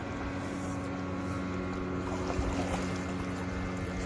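A motorboat drones steadily as it passes close to a canoe on an island lake, a continuous low engine hum with wind and water noise, no talking.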